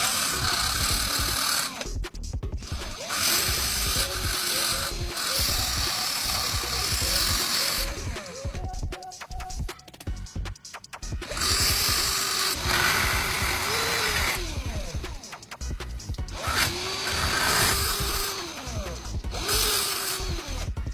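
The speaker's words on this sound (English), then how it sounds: "I'll carefully grind down one of the bolts to slim it down" A small rotary tool grinds down a steel bolt to slim it, producing high, whining bursts of grinding that start and stop in repeated passes, with short quiet gaps between them, close to the microphone.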